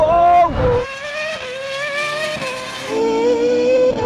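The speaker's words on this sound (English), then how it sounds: "I can hear the Formula 1 car." A Formula 1 race car drag racing against a 1200-horsepower Lamborghini and a 1300-horsepower Nissan GT-R Nismo gives off a high engine whine. Its pitch slides and shifts, dips briefly midway, then swells back at moderate loudness.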